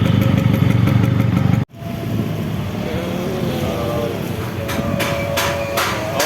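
A Vespa scooter engine drones steadily while riding through Makassar toward a workshop. It cuts out abruptly for a moment, then resumes at an even, continuous level with some rattling.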